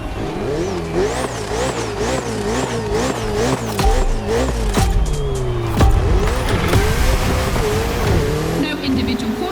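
A Ferrari and a Red Bull race car roar around a circuit in The Crew Motorfest, engines revving up and down through the gears with tire squeal and skidding, loud and close.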